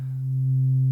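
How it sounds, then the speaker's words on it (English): A synthesizer sawtooth wave with its harmonics filtered away, leaving a pure, steady sine-like tone that holds one low pitch and swells slightly in level. "that's a saw wave with the harmonics filtered out, and as you can see, it kind of becomes a sine wave"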